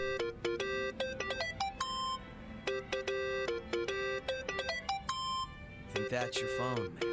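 Mobile phone ringtone in Yakuza: Like a Dragon plays a repeating bright melodic jingle, loud and close, looping several times before a brief burst of other game sound at the end.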